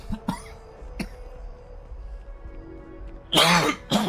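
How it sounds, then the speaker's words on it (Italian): A man clears his throat and coughs: a few sharp isolated hacks early on, then a harsh, louder throat-clearing burst near the end, close to the microphone. "Colpo di tosse."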